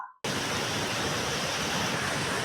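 A river swollen by rain after a landslide at Naripatta, Kerala, roars as a continuous, dense, loud rush of water that starts abruptly and holds steady, close by with no talk.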